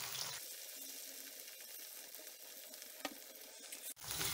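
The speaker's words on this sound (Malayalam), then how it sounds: "ഞാനിവിടെ രണ്ട് മൂന്ന് ബാച്ചായിട്ടാണ് ഫ്രൈ ചെയ്യുന്നത്" Chicken 65 deep fries in oil with a constant, fairly faint bubbling hiss, broken by one sharp knock near the end.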